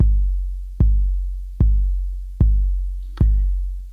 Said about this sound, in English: So the kick drum on the 808 is very special, and it was a programming accident.